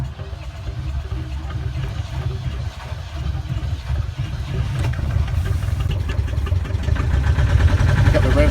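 Boat engine turning over and settling into a low, steady idle, the rumble swelling louder and rougher over several seconds with no voices.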